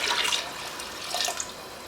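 Water is poured into mung dal cooked with spices in a home kitchen, giving a fairly faint splashing, gurgling flow in two short bursts, with no voices over it.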